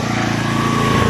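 A Makita G2400R portable generator engine runs steadily close by, a loud, even buzzing drone with a fast regular firing pulse, heard alone.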